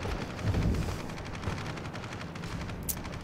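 Battleship Arkansas firing its main guns in World of Warships, a dense rumbling barrage of heavy naval gunfire with a strong low boom early on that rolls on loudly, alone and without talk.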